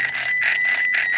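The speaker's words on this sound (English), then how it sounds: "That's actually a bell, it's called Lucky Cat Bell" A Lucky Cat bicycle bell rings close and loud in a rapid, shimmering series of repeated metallic dings with a sustained ringing tone, no voices.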